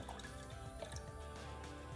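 Liquid poured from a small plastic vessel while brewing green tea kombucha, a steady close trickle and drip running continuously with no talk.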